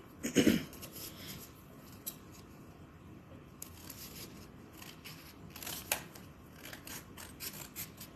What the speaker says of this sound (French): Je vais découper celui-ci aussi.